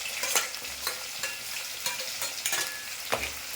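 Garlic, shallots and green chilies sizzling in a hot pan with a spatula scraping and stirring them in irregular strokes, close and fairly quiet, with no talking.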